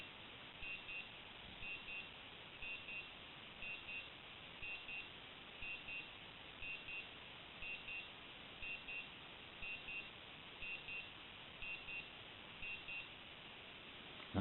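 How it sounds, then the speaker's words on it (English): An Omega Speedmaster Skywalker X-33 wristwatch alarm beeps in quick paired pulses, repeating at a steady rhythm over faint background hiss. "So these are one syllable double alarms."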